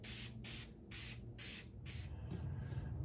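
Primer being spray painted onto a DIY industrial-style table lamp, several close hissing aerosol bursts of about half a second each separated by brief pauses, ending in a longer spray.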